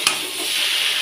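Boiled potato, carrot and papaya being stirred for sukta in a pan, a soft continuous sizzling scrape with a brief sharper clatter at the start, fairly close and steady.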